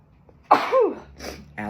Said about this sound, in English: here comes the sneeze